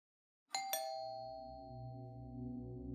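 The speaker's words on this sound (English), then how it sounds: "Jonathan walked up to the door of Alexia's parents' house and rang the doorbell." A house doorbell gives two quick chimes, a clear ding-dong at the front door of a parents' home, and its tone rings on and fades slowly in an otherwise quiet setting.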